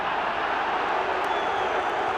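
Stadium crowd at a 1994 Ireland v Wales rugby international at Lansdowne Road, Dublin, reacting to a knock-on: a steady, dense roar of many voices with no clear peaks, sustained throughout.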